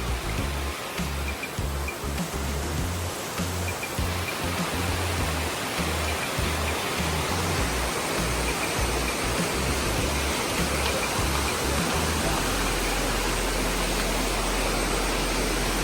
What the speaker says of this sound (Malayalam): പിന്നെ വെള്ളച്ചാട്ടം നമുക്ക് ഇവിടുന്ന് കാണാനും പറ്റുന്നുണ്ട്